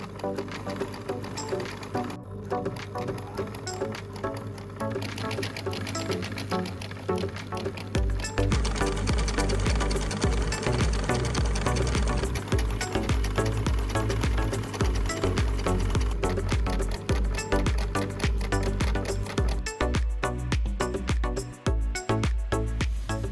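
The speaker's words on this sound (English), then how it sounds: "sew the entire crotch seam up" A sewing machine stitches the crotch seam of a pair of pyjama shorts, a steady rapid mechanical chatter that runs close and continuous, growing louder and denser after the first several seconds.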